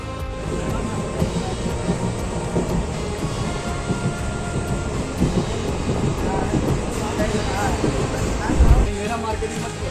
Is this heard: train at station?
yes